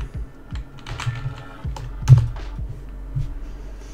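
Typing on a computer keyboard in a quiet room, a short run of distinct, close key clacks in an uneven rhythm.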